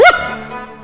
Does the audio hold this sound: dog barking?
yes